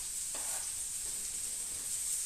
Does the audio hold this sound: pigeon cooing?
no